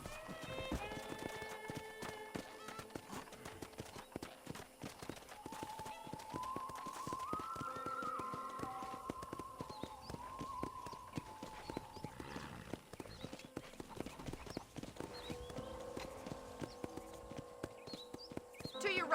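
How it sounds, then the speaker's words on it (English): Horse hooves clip-clop at a steady riding pace in Red Dead Redemption, with occasional whinnies and a faint western music bed, while a voice talks over it. "let's see if you can still ride a horse"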